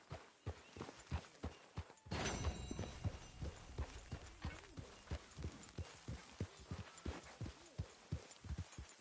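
Horse hooves in a video game clop steadily on a hard surface in an even walking rhythm, close by, with a brief rush of noise partway through.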